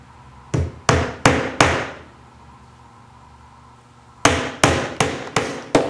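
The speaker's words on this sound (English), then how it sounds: "And a hammer. You can use a screw or your finish gun." A hammer drives finish nails into wood while building a radius dish, with a run of four sharp, evenly spaced strikes, a short pause, then six more close, loud blows.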